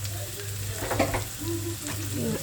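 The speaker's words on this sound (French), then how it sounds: "On va mettre un peu de champignons." Frozen mushrooms sizzle quietly in a pan for a gratin, with soft spoon-stirring scrapes over a steady, faint frying hiss.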